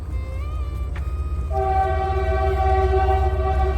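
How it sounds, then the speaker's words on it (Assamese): A train runs on a nearby railway line beside a wildlife sanctuary forest, a loud steady rumble under a sustained horn blast that sounds fainter at first, then rises strongly and holds. "ট্ৰেইন লাইন আছে মানে ওচৰতে, ট্ৰেইন গৈ আছে পুৰা"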